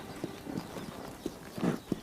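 Horse hooves clip-clop in an uneven walking rhythm, several dull, moderately close knocks spread over two seconds against a soft, steady background hiss.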